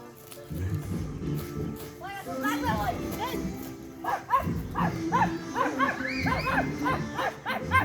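A dog barks repeatedly at close range amid a busy outdoor scene, with people talking over and between the barks.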